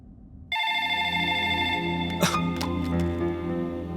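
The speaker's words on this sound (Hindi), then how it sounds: "Phone is ringing." An electronic telephone ring starts abruptly and keeps sounding steadily, loud and close, with a couple of brief knocks partway through.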